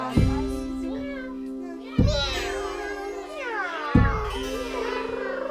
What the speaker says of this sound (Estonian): kassikene kräunub süüa, kassikene kräunub süüa